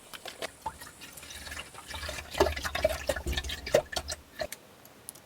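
Organic bone broth splashes and trickles as it is poured in a small trailer kitchen, a few seconds of close liquid gurgling with scattered drips and light clinks.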